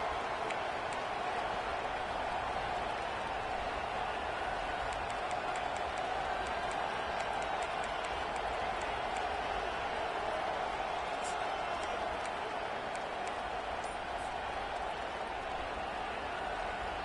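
A football stadium crowd roars steadily in the background during a Clemson game, a dense, continuous wash of distant cheering and noise that never lets up.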